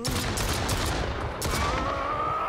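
Shotgun blasts in a zombie survival video game, several loud, rapid booming shots in close succession, with a whining tone trailing after, no voices.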